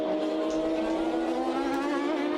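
GT race cars, a red and white Ferrari dueling two Maseratis, roaring at Silverstone in the FIA GT Tourist Trophy, a loud steady engine howl at high revs with no break.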